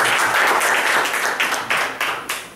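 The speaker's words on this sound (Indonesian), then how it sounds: "Jadi, aplaus dulu teman-teman semua." An audience at a talk applauds, a dense, loud burst of many hands clapping together that gradually thins and fades over a few seconds, with no voices on top.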